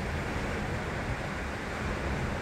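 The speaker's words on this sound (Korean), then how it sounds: "파도 소리 들리시죠?" Ocean waves wash steadily against the rocky coast along the Igidae Galmaet-gil walking trail near Dongsaengmal in Busan, a broad continuous surf roar mixed with some wind, with no voices.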